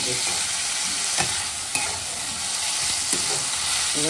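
Onion fries in oil in a pan on a wood-fired stove with a loud, dense, continuous sizzle, broken by a few faint clicks of stirring, with no voices.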